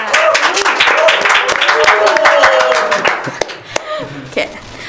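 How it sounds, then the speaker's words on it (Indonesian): A burst of dense clapping from an audience at a campus talk event, loud at first and then thinning to a few scattered claps, with voices and cheering mixed in. "Tepuk tangan dulu dong buat kita semua"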